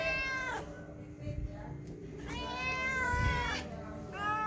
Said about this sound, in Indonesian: Masih mengeong ya guys ya.